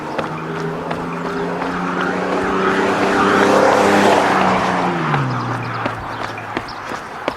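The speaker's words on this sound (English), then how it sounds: "pretty soon we'll be away from the noise of the traffic" Road traffic noise swells as a vehicle approaches and passes close by, its engine tone dropping as it recedes, with a steady roadside hum underneath.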